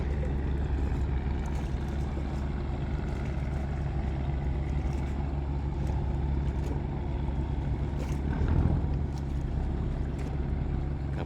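A fishing boat motor hums steadily on the Pattani River at night, a continuous low droning engine with a slight swell near the end, heard from close by with no talking.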